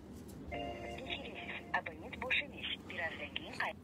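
A phone call to an official goes unanswered: a repeating electronic ringback tone plays on the line while people talk over it nearby, the tone faint beneath their voices.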